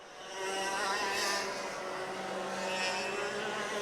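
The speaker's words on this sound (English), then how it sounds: "that kart was strong off the corners, just accelerating out of the carousel down there at the south end of the racetrack" Racing karts powering out of a corner on a racetrack, a loud sustained buzzing engine whine that swells and holds as they accelerate down the straight, with no voices.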